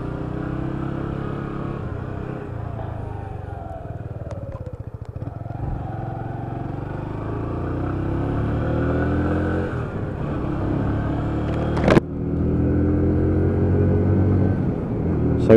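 Lexmoto ZSB 125 motorcycle pulling away and riding on, the small engine droning and rising through the gears, loud and close, with a sharp clatter near the end.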